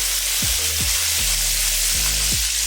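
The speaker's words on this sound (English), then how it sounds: "And I love the sizzling noise." Pieces of salt and pepper squid sizzle loudly in a pan of hot oil, a dense, constant crackling hiss with a few sharp knocks from stirring, close up and with no voices.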